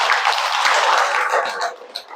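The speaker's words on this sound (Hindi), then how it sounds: "एक बार ताली बजाओ अच्छी तरह।" Indoor audience at a yoga and spiritual talk clapping on request, a dense burst of applause that thins out after about a second and a half into a few scattered claps.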